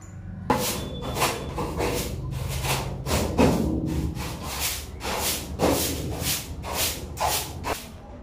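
A broom sweeps a shop floor in steady, rhythmic strokes, each a brisk scratchy swish repeated about a dozen times, close and clear with no talking.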